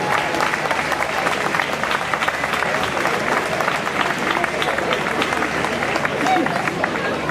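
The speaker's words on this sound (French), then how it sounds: "je demande d'applaudir" Sustained, dense applause from a large crowd at the Nuits du Sud festival in Vence, a steady wash of clapping with background crowd noise throughout.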